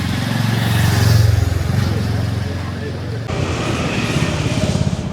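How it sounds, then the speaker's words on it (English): Busy Kathmandu street traffic, with cars and motorbikes rumbling and passing close by as engines rise and fall, a loud continuous mix with a voice talking over it. "First impressions of Kathmandu is that it's quite hectic. Lots of cars, lots of motorbikes going around, but I like it."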